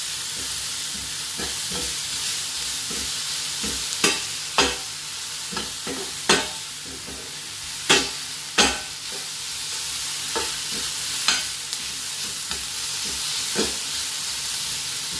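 Vegetables sautéing in a stir-fry pan for a ginger, chilli and lemon prawn dish, a steady hiss of frying under intermittent sharp clacks of a utensil stirring, close and without talk.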